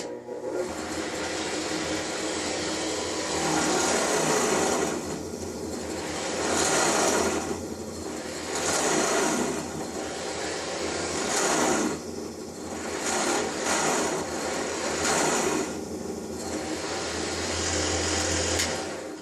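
A Harbor Freight 10-inch drill press runs at its 2900 RPM top speed, boring with a 1-inch Forstner bit. Its loud, steady motor whine and grinding swell and ease in repeated waves as the bit bites in, with no voices.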